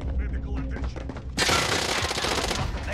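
Rapid automatic gunfire in Call of Duty: Warzone breaks out abruptly and continues as a loud, dense burst of shots, following a quieter stretch of game noise.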